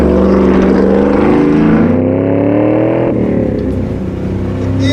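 A Jeep Wrangler's V8 engine drones loud and steady while driving off-road, its tone shifting slightly mid-run, with no talking.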